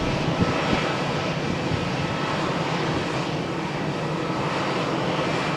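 An EasyJet airliner accelerates down the runway on a stormy morning at Malaga Airport, its engines a loud, dense, steady roar that holds for several seconds.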